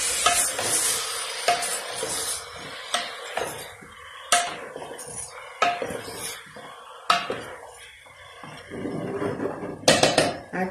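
Utensil scraping and clinking against a pot as beef chuck is stirred, irregular knocks over a low background sizzle, close and fairly quiet.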